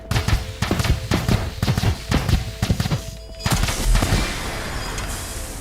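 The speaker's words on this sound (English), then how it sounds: "It's an awesome explosion, but it is too much." An explosion effect in the Veridian Expanse game's sound design opens as a rapid string of sharp, crackling bursts, then swells into one loud, heavy blast that rumbles and slowly fades.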